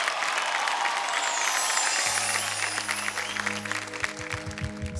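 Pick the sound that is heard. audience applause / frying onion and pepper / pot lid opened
audience applause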